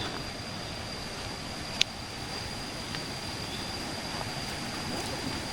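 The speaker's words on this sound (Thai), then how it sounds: "น้ำตกอยู่ตรงนี้ครับเล่นน้ำได้นะ" A waterfall at a Chanthaburi viewpoint and temple area gives a steady, broad rushing hiss of falling water, even and moderately loud, with a brief click partway through and no voices.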